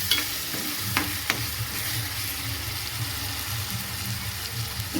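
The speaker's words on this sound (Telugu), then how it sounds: "బాగా కలుపుతూ ఉన్నాను ఫ్రెండ్స్, లేదంటే అడుగు అంటుతూ ఉండిద్ది." Masala frying in a pan and stirred steadily to keep it from sticking, giving a continuous close sizzle with a few scraping spoon strokes and no talk.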